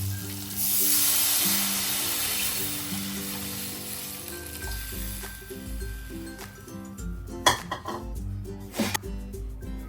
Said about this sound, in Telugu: ఇప్పుడు దీనిలోకి చింతపండు రసం వేసుకున్నాను.